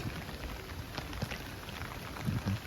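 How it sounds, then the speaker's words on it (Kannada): Soft, steady rain patters all around, a faint continuous hiss with scattered light drops and no voices. "ಈಗ ಮಳೆ ಬೇರೆ ಬರ್ತಿತ್ತು"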